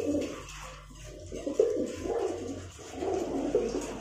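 Teddy pigeons coo close by in low, throaty, repeated bursts, several calls overlapping in a soft rolling rhythm with no voices.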